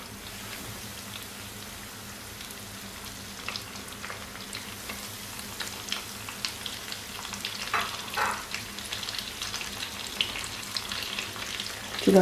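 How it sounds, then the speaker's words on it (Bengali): Hilsa fish pieces fry in oil, a low continuous sizzle with scattered crackles and pops that grow busier and louder toward the end. "এবার আমি মাছগুলো একটা একটা করে তেলের মধ্যে দিয়ে দেব"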